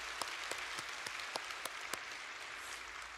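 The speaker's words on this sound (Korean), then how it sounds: "우리 중고등부들 또 청년들도 많이 나오는데 한번 박수 치겠습니다" Church congregation applauds at an early-morning prayer service, a faint, steady patter of many hands with a few sharper claps standing out, distant and low in level.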